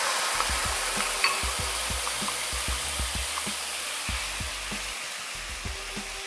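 Thai grilled beef salad sauce heats in the same pan used to fry steak, a steady broad sizzle with repeated soft stirring taps and scrapes, close and alone without talk.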